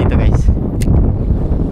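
Strong wind buffeting a microphone while lure fishing for snapper on the water, a loud low rumbling roar with gusty fluctuations throughout.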